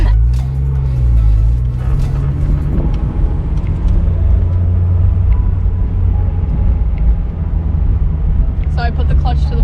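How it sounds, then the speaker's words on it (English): Mazda Miata with a manual gearbox driving and shifting into second, a loud steady engine drone with a pitch drop around the gear change, while people talk in the cabin over it. "So I put the clutch to the floor and then shift to second."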